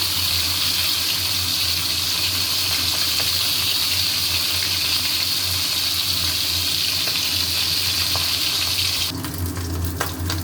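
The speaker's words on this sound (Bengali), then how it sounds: "মুড়ো দুটো ভেজে তুলে নেব। এটা এমনি শুধু খাবো, তেল দিয়ে মুড়ো দিয়ে ভেজে রেখে দেবো।" Fish heads fry in hot oil with green chillies, giving a loud, hissing sizzle that holds steady for about nine seconds before a clattering shift near the end, with no voices.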